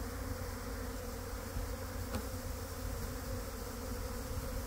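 Honeybees buzzing around the hives after a truck unloading, a dense, steady drone of many bees at close range with no voices.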